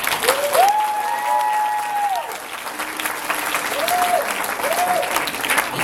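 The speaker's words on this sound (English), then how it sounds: "And please give a round of applause." Audience applause fills the hall at an anime convention's closing ceremony, a sustained wash of clapping with tonal sounds and brief voices over it.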